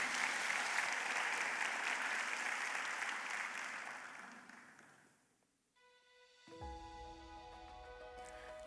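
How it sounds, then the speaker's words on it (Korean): Warm applause fills a Korean democracy movement memorial ceremony hall, steady at first, then fading away over several seconds before soft musical tones begin underneath. "모두 큰 박수로 맞이해 주시기 바랍니다."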